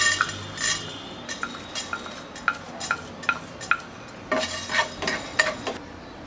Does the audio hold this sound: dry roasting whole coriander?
yes